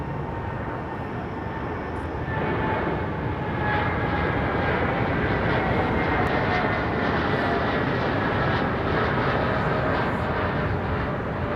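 Jet aircraft engines roar at London Heathrow Airport, a broad, steady, loud rush that swells slightly after the first couple of seconds and holds without a break.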